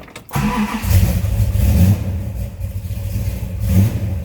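A cold 1967 Plymouth Belvedere GTX V8 cranks briefly and catches within a fraction of a second, then settles into a loud, rumbling idle with a couple of swells in engine speed, close by.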